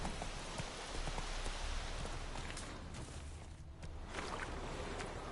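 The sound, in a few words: horse galloping in the video game The Witcher 3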